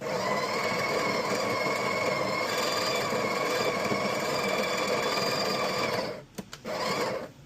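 A Breville BES870XL espresso machine grinds coffee beans with a steady, loud mechanical whir that runs continuously and cuts off near the end, followed by a few brief clicks.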